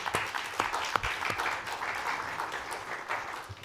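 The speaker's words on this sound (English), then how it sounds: "Can we once more give a round of applause to our panelists?" A panel audience at a climate and renewable energy event claps for the panelists, a fairly soft but continuous patter of many hands that carries on evenly without pause.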